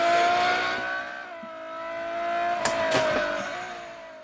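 Ferrari 599 GTO engine in the racing game Real Racing 3, a loud high-revving tone that rises and dips through gear changes, with short tire-squeal bursts near the end and no voices.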